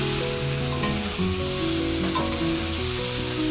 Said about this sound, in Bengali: তো সব মশলা দিয়ে একবারে কষিয়ে নিচ্ছি।